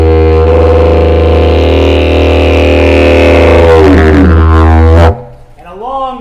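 A didgeridoo drones steadily and loudly, a deep sustained tone with shifting overtones, depicting desert heat in the Australian outback; near the end the drone stops and a voice speaks.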